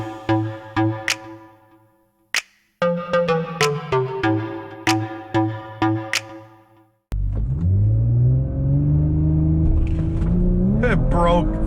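A 2018 Audi RS5 launches hard from a standstill, its engine surging into a loud, sustained roar that climbs steadily in pitch. A burst of rhythmic ticking and tonal chimes comes first, with a voice speaking over part of it.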